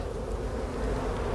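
Honey bees buzz in a dense, steady drone at a hive with two full boxes of bees, the hum close and unbroken with no voices.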